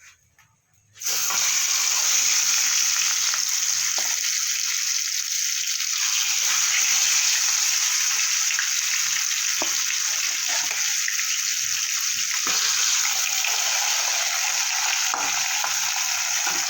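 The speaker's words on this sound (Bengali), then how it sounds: "এবার বাকি মাছগুলো আমি ভেজে নেব।" Pieces of rohu fish frying in hot oil in a home kitchen pan give a loud, continuous sizzling hiss that starts abruptly after a moment of quiet and holds steady to the end, with no talking.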